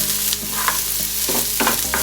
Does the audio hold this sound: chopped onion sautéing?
yes